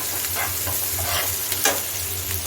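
Mushrooms and paneer sizzle steadily in hot oil in a pan while being stirred, with soft scraping strokes over the continuous frying hiss and no voices.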